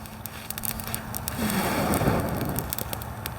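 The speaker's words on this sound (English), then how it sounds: "we are starting to get ourselves a nice little bed of coals, and that's what we need to start putting bigger stuff on there and really getting a good fire going" A wood fire burning over a bed of coals gives off a steady crackle and low roar, with scattered sharp pops and snaps at close range, a little louder in the middle.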